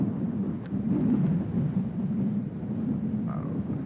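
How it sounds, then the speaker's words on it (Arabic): Cold wind blowing through a mountain forest at about 1590 metres, a steady low rumbling rush with gusty swells, buffeting the microphone throughout. "عم تسمعوا الهوا برد برد برد"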